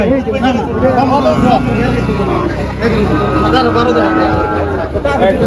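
Cattle moo repeatedly at a busy livestock market in Faridpur, loud bellows rising over a steady crowd babble and nearby voices, with some traffic noise in the background.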